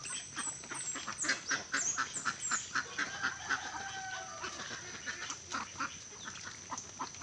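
Ducks and chickens feeding on a farm make a busy chorus of quacks and clucks, repeated calls in uneven bursts at moderate distance over faint background noise, with no talking.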